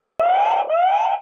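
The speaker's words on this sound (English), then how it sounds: "Oh, that's the alarm." A built-in alarm siren on an affordable PoE NVR security camera system with a screen, giving a loud, close electronic two-part wail lasting about a second with a rising tone, then cutting off.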